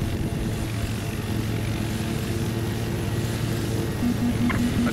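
A video game helicopter's rotor and engine drone steadily throughout in Battlefield 4, a constant loud mechanical rumble with a low throbbing beat and no talking.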